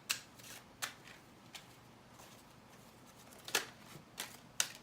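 Tarot cards are shuffled in a quiet room. About half a dozen short, crisp riffling bursts come at irregular intervals, close and fairly soft, with no voices.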